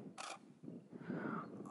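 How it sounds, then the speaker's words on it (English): A camera shutter fires once for a sunset landscape shot in the Peak District, a short crisp click near the start, followed by soft rustling and faint background noise outdoors. "Let's take this shot and let's see what it looks like."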